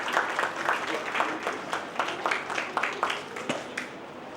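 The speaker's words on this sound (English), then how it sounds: "So please everyone give a big round of applause for Dr. Soma Sundaram sir." An audience at an academic conference gives a round of applause for an associate professor, a steady patter of many hands clapping at moderate volume, with distinct claps standing out rhythmically.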